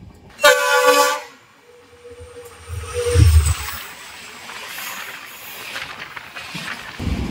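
Howrah-Ranchi Intercity SF Express (train 12858) racing at top speed around 130 km/h. A loud horn blast sounds first, then a steady rushing rumble of the passing train continues to the end.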